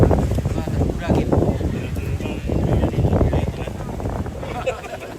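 Strong wind buffeting the microphone outdoors at a Toraja funeral gathering, a continuous loud rumbling roar with gusts, while people talk underneath.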